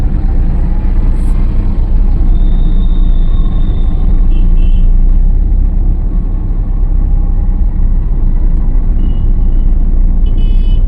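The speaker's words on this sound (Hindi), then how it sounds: "बहुत अच्छी खासी ट्रैफिक है, क्राउड है, काफ़ी भीड़ रोड में" Heavy road traffic on a crowded road heard from inside a moving car during a driving lesson: a continuous loud engine and road rumble with passing vehicles and faint higher tones, no speech.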